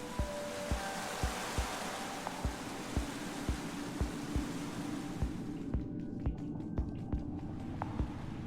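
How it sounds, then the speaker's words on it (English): Steady rushing of a waterfall in a Minecraft Story Mode scene, a soft broadband wash under rhythmic low thumps like footsteps, with the roar cutting back partway through. "I first met Reuben near a waterfall like this."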